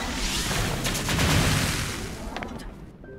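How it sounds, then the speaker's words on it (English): Four opals fired at a rock face in The Legend of Zelda, a loud blurred burst of blasts and rumbling impacts that fades toward the end, with a few sharp ticks. "Fire 4 opals at this rock face."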